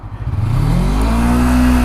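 A Suzuki V-Strom 250 two-cylinder motorcycle engine revs up close by, the tone rising smoothly and then holding at a loud, steady drone.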